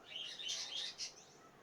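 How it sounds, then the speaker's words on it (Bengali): Faint, high bird chirps twitter in a quick cluster, several short calls close together against a quiet background. "কিচিরমিচির শব্দ পাবেন না পাখিগুলো ডাকতেছে যে"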